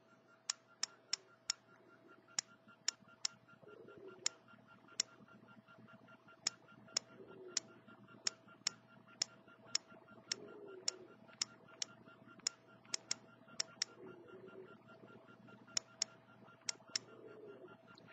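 Sharp, evenly spaced clicks from tapping an iPod Touch touchscreen keyboard, a quick series of key sounds running in bursts with short pauses over a faint low hum, close and fairly quiet.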